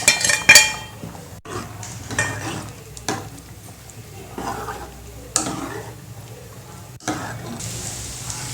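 Lentils are poured into a simmering pot of vegetable sambar, with ladle clinks and scrapes against metal over a soft, steady bubbling sizzle.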